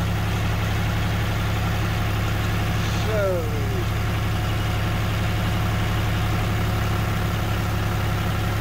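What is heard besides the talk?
tractor engine idling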